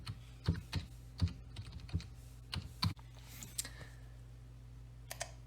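Typing on a computer keyboard while filling in a timeline in a software tutorial, irregular close, quiet key clicks in short bursts with pauses, a few lighter taps near the end.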